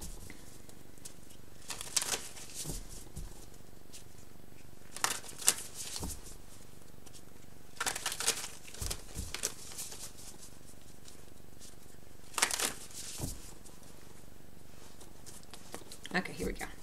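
Tarot cards are shuffled in several short, crisp bursts of riffling and patter, spaced apart with quiet gaps between them.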